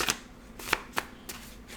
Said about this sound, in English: Yeah, and then just one more shuffle there.